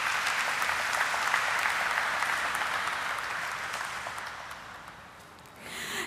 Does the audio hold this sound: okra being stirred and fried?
no